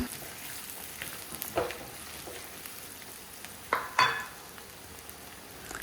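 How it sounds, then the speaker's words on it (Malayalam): Crushed onions frying in coconut oil in a pan, with a steady low sizzle and a few sharp scraping stirs around the middle and near the end, with no voices. "ഈ ഉള്ളി ചതച്ചത് നമുക്കതിലേക്ക് ഇട്ട് കൊടുക്കാം എന്നിട്ട് നന്നായിട്ടൊന്ന് വാട്ടി കൊടുക്കാം"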